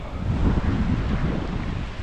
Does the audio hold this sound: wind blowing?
yes